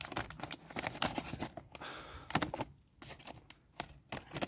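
Crinkly plastic packaging of a Ukrainian Armed Forces 24-hour combat ration being opened, close and quiet, with irregular rustles, tears and small handling taps.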